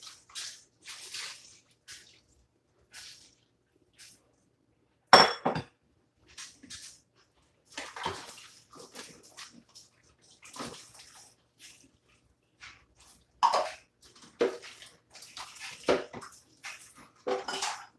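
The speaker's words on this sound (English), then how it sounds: "So I hope y'all don't mind if I wash up these little dishes right quick." Dishes being washed in a kitchen sink: intermittent clinks of plates and cutlery, splashes and running water in short separate bursts with quiet gaps between them.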